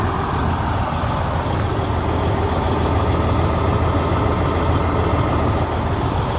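A 2005 Western Star 4900EX heavy truck engine idles with a constant, dense low rumble that stays even and loud throughout, with no talk.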